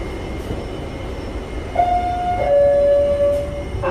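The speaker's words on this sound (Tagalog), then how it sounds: "dumating na ang train" A train pulls into a station over a steady rumbling background. Midway through, sustained tonal notes ring out, like a horn or squealing brakes, and grow slightly louder as the train comes in.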